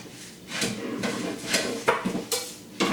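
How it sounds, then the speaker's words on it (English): A pan of panko breadcrumbs is shaken while breading pork schnitzel, giving five or six evenly spaced dry, rattling scrapes, close and moderately loud, with no talk. "Give the pan a little shake to spread out my panko."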